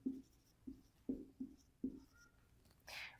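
Writing on a board while solving a capacitor physics problem, heard as several faint short scratchy strokes in an uneven rhythm, ending with a brief higher squeak, quiet and without any talking.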